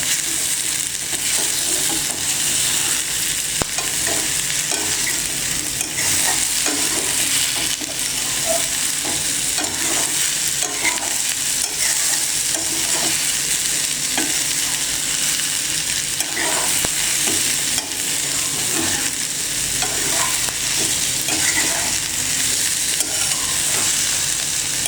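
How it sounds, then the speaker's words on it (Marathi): Chopped onion frying and being stirred in oil over a low gas flame, a steady dense sizzle with scraping stir sounds throughout, close and continuous with no talking. "आता तो चांगला परतवून घ्यायचा तेलामध्ये, मंद गॅसवर करायचा"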